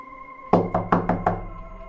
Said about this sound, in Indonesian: ketukan dari dinding belakang kontrakan terdengar pelan, namun mengerikan